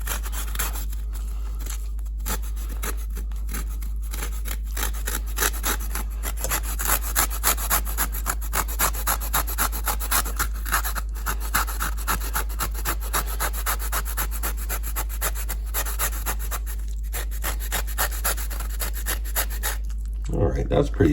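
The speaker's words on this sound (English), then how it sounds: "Rasping lemon." A lemon rubbed on a rasp grater for zest: steady, rhythmic scraping strokes, close and continuous, over a constant low hum.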